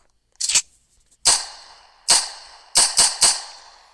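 Six sharp, separate MP-40 submachine gun shots in the Roblox game WW2 Tank Simulator ring out with short echoing tails, the first a quick double burst, the rest spaced irregularly with no talking.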